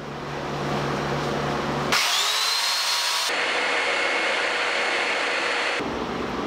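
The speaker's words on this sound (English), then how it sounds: "Start the dust collector." A workshop dust collector runs during bathroom demolition, a loud steady whine and roar with abrupt changes in tone as other power tools cut in and out, with no voices.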